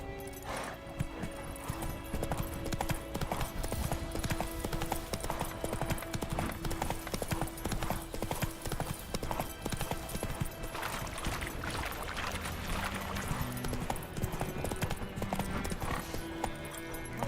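Horse galloping in The Witcher 3: Wild Hunt, with steady rapid hoofbeats pounding continuously over game ambience and music, close and prominent throughout.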